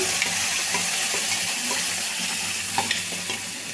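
Steady crackling sizzle of a paste frying in hot oil, with occasional stirring scrapes, close and continuous.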